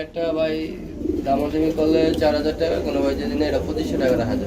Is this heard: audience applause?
no